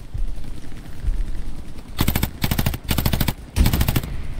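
Machine gun suppressing fire in the World War II shooter Hell Let Loose: three loud, close sustained bursts of rapid automatic shots separated by brief pauses, after quieter background battle noise.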